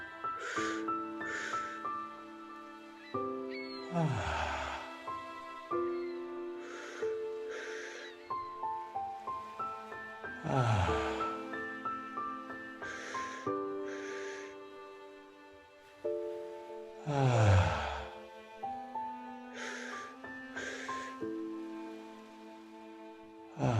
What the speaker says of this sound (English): I invite you to take that extra breath at the top of your spirit breath and then exhale it audibly.